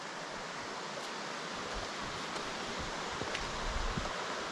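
A creek runs below a rocky wooded hillside, giving a steady broadband wash of flowing water at moderate distance, with a few soft rustles and knocks nearby.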